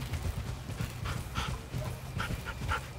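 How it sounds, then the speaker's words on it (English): An attack dog unit in Red Alert 3 pants and scrabbles, with quick paw-like patters and short yelps over a low game background rumble. "The dog killed a bear."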